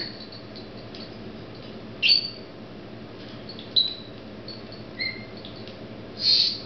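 A pet bird lets out a few short, sharp high squawks and chirps at irregular intervals over a quiet indoor background, with no one talking.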